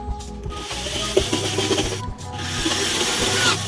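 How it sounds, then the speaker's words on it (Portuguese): A chisel paring away excess wood to cut a recess for a cabinet door hinge, with close scraping and rubbing strokes and small clicks throughout. "você vem retirando o excesso da madeira usando um formão"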